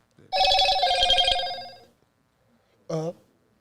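A phone's electronic ring sounds once for over a second, bright and tonal, then stops; after a pause a voice speaks briefly in a quiet podcast room.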